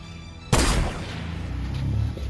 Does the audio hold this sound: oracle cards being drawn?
no